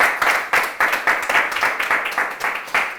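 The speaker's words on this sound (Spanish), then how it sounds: "un aplauso al Señor" A church congregation claps together in praise, the applause steady and fairly close, with clapping bursts rising and falling in a loose rhythm and no talk over it.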